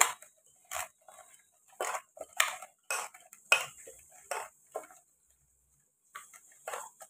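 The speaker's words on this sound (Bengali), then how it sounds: "এখন সব একসঙ্গে মাখিয়ে নিচ্ছি।" Chicken curry ingredients with tomato sauce are stirred and mixed in a pan, a series of close, irregular scraping and clinking strokes of a utensil against metal, with pauses between.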